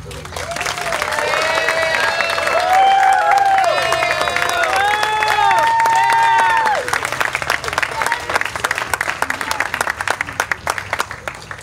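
A crowd at a baptism breaks into loud, sustained applause and cheering, with voices whooping over the clapping for several seconds before it thins into scattered, fading claps.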